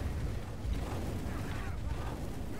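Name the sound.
explosion in video game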